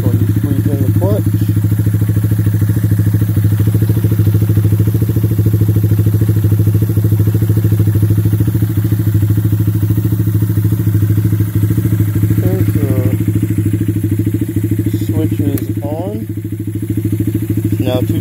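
A Honda Grom motorcycle fitted with two-step launch control idles with a loud, steady, close engine drone for the whole stretch, while someone talks over it now and then.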